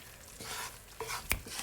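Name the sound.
stirring gram flour halwa with ghee in a pan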